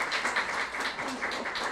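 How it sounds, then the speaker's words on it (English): Applause from an audience at a town hall meeting in Lafayette, Louisiana, a steady wash of clapping hands lasting a couple of seconds at moderate loudness. "Round of applause."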